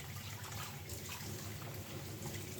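Tap water running over catfish being rinsed clean after a rub with tapioca starch, a continuous close splashing stream in a sink, steady and unbroken with no talk.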